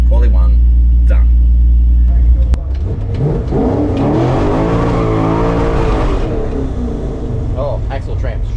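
A small-block Chevy 4WD drag car at Benaraby Dragway runs loud and close, a steady engine roar giving way to a rising, warbling acceleration as it launches down the quarter-mile strip, then fading, with a voice talking over it.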